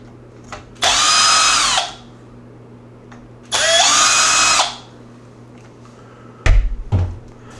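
Power driver whirring twice in roughly one-second bursts as it backs screws out of the rear of a Traxxas Slash 4x4 RC truck chassis near the motor, followed by a clattering knock of parts being handled.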